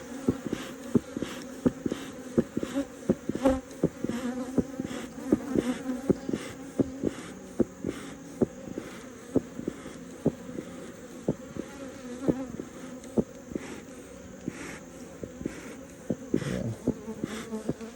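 Honeybees buzzing steadily around an open hive during an inspection, a continuous close drone with frequent sharp clicks and taps of frames and tools throughout, no talking.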